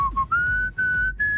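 A person whistles a short tune, a few clear sustained notes stepping upward with brief gaps between them, close and fairly loud.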